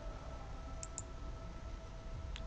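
Computer mouse clicks during image editing in Adobe Photoshop: two quick soft clicks close together, then a third a moment later, faint against steady background hiss.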